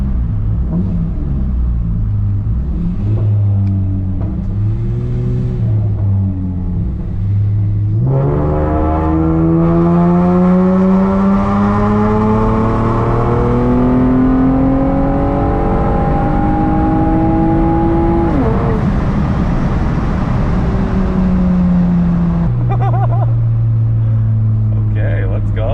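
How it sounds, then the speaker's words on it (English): A car engine revs in third gear from about 2,000 RPM up to redline, a loud, close drone rising steadily in pitch, easing off, then climbing again before dropping back to a lower hum. "just redlining the car in third this time"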